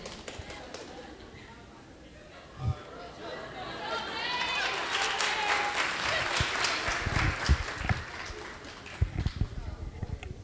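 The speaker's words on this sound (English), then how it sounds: "Let's give another round of applause for all of our attendants and our king and queen, Paige Daly and Nate Hall." A crowd in a school gym at a basketball homecoming breaks into applause that swells over several seconds, with voices and chatter mixed in and a few loud thumps and knocks near the end.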